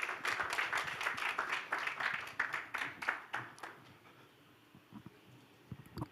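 Audience clapping at a Bollywood film trailer launch for The Rebels of Sonchiriya, a dense burst of claps for about four seconds that thins into a few scattered claps and fades.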